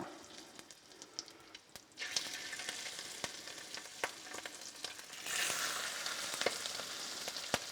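Chicken livers frying in a hot pan; a soft sizzle swells into louder, denser crackling partway through, with sharp pops scattered throughout and no talking.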